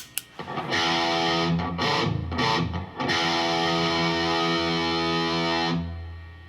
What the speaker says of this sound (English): Okay, and then add the distortion